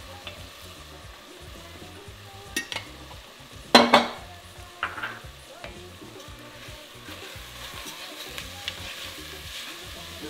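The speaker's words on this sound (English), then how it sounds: "You're going to saute the grain in some fat." Rice grains sauteing in hot fat in a pan for a jollof risotto: a steady sizzle with several sharp stirring scrapes and clatters of a utensil against the pan, close up, with no talking.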